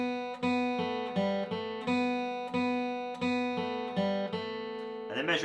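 A short bluegrass phrase from Turkey in the Straw on acoustic guitar, with about eight clean picked notes in a bouncing, even rhythm, played solo and close, and a brief strum at the end.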